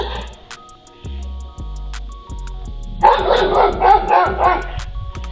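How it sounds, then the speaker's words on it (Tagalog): A boxer terrier barks and yips in a chase after a brown bear, the barking growing loud and dense in the second half over a steady background hum with sharp clicks. "Pero hindi nagpadaig ang boxer terrier hanggang sa hinabol na niya ito."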